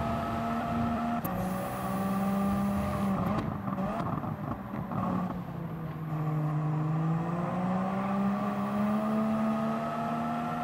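Turbocharged Suzuki Cappuccino racing in Gran Turismo 7, its engine holding a steady high-revving drone with shifting pitch and a brief gear-change dip, loud and continuous with no talk over it.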